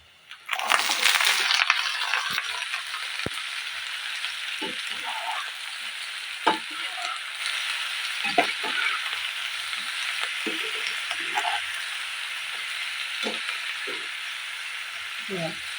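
Soaked eggplant pieces frying and being stirred in a pan for a sautéed eggplant and egg dish, a steady loud sizzle broken by repeated scraping and clattering stir strokes throughout.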